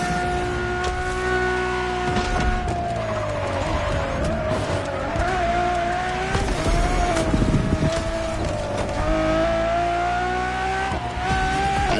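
A Ferrari Enzo supercar drives with a loud, continuous engine drone whose pitch rises and falls as it runs, while a rougher scraping layer suggests tires under strain.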